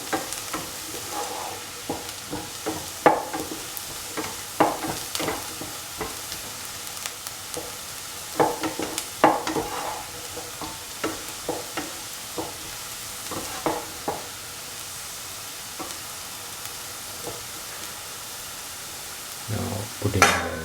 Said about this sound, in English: Keep on sauteing the onions until they turn golden.